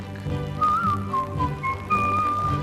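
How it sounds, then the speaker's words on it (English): A person whistles a short tune, clear bright pitched notes gliding and stepping over a low musical backing, heard alone without talk. "Just whistle while you work."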